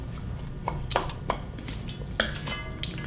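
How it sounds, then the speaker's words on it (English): A spoon scraping and knocking against a pot while tomato lentil soup is stirred, giving a few sharp metallic clinks over a low background murmur. "So again, here we're just stirring this up really nicely."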